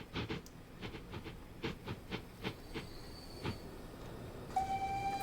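A train runs in the rail simulation game Transport Fever 2, on an East Yorkshire line, with a steady rolling rumble, repeated rhythmic clicks of wheels over track joints, and a brief steady tone near the end.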